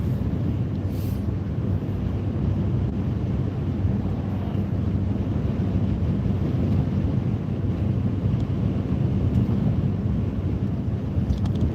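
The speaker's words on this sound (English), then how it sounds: "And it is windy as crap." Strong, continuous wind buffeting the microphone, a loud low rumbling roar that stays constant throughout with no voices.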